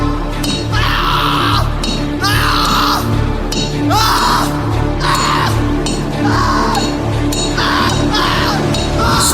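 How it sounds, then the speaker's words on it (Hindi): In a Hindi audio drama, a man screams in pain while horseshoes are nailed into his feet. The anguished cries come as repeated loud, drawn-out bursts about every second and a half over a constant dramatic background. "फिर से चीखा।"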